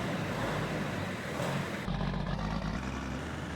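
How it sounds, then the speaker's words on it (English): Farming Simulator 19 tractor engine running with a steady, dense mechanical drone that shifts slightly in tone midway, loud and continuous without talk. "this tractor just sounds mean, doesn't it"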